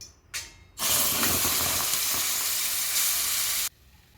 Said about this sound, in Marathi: तयार केलेली संपूर्ण प्युरी कढईत घालायची